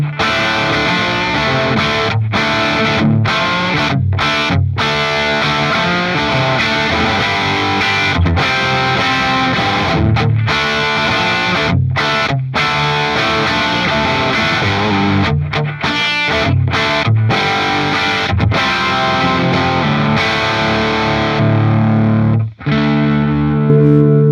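A heavily distorted electric guitar roars through a high-gain REVV amp, thick sustained crunchy chords with short choppy breaks, continuous and up close.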